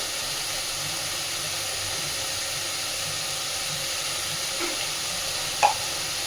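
Fish oil with potato and onion sizzles steadily in hot oil in a pan, a constant close frying hiss broken by a couple of light stirring knocks near the end.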